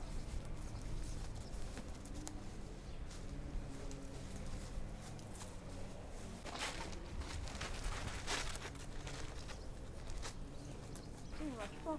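A nearby horse's hooves clip-clop faintly at an outdoor business festival in Lacroix-Saint-Ouen, irregular soft knocks beneath a steady murmur of background talk and ambient noise.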